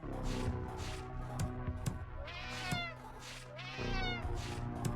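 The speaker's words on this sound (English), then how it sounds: "We weaponize the cat." Repeated cat meows from the Slayaway Camp video game, several distinct yowling calls spaced over a few seconds against a steady game music bed.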